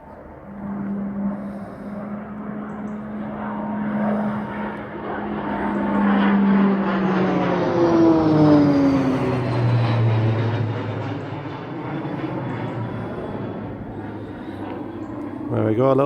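A Texan propeller trainer aircraft making a low pass through the Mach Loop valley, its engine drone rising as it nears, peaking with a sweeping pitch shift, then fading away, while people talk over it.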